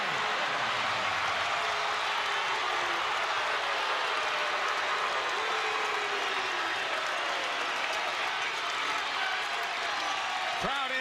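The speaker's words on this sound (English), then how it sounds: "Crowd in full throat, 4-point lead." A college basketball crowd at a Winthrop home game roars in a dense, sustained wall of cheering that fills the arena, while a commentator talks over it.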